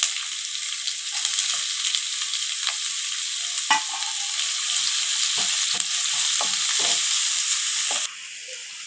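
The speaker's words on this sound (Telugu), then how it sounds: "వెల్లుల్లి వేగిన తర్వాత 4 పచ్చిమిర్చి, ఒక పెద్ద ఉల్లిపాయ సన్నగా తరిగి వేస్తున్నాను." Finely chopped onion and green chillies sizzle in hot oil in a pan for gobi manchurian, a steady close frying hiss with scattered stirring clicks and scrapes, ending in a quieter tail.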